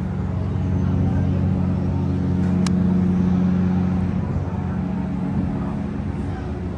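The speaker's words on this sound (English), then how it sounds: "Oh, we got the horn." The Allure of the Seas cruise ship sounds one deep, sustained horn blast of under two seconds, carried over a constant low rumble of nearby traffic and engines.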